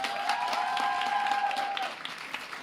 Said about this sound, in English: Can we have a round of applause for all of you present here today?